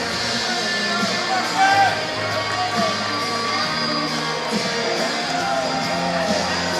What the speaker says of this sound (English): Crowd's still a little bit of a frenzy there after the win from the hometown girl and Brittany Edwards.